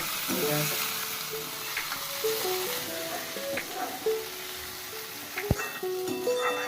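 Food fries in a pan of castor oil for a citron gojju, a continuous close sizzle with scraping stir sounds, occasional clinks, and faint voices and musical tones underneath.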